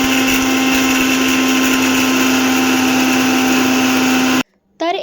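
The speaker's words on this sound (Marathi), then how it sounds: "थंड झाल्यावर आपल्याला हे मिक्सरमधून बारीक वाटून घ्यायचे आहे" A mixer grinder whirs loudly and steadily as it grinds roasted spice masala for dahi mirchi, then cuts off abruptly near the end, followed by a brief voice.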